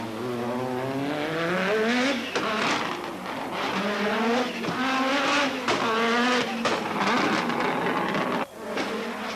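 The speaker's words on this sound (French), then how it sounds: "La montagne de Ferrat explose du fracas des échappements." Rally cars at full throttle on a Monte Carlo Rally mountain stage in 1986, engines roaring and exhausts blaring continuously with rising and falling revs as cars pass close by, loud and dense throughout.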